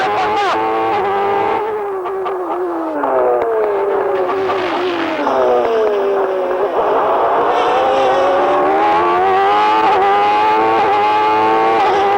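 Formula One car's engine screams through a fast lap at high revs, pitch rising and dropping sharply through gear changes and corners, loud and continuous throughout.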